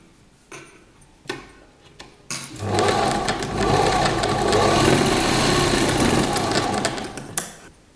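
Sewing machine double-stitching a girl's party gown, running in a loud continuous burst for about five seconds after a few short taps and clicks, then stopping.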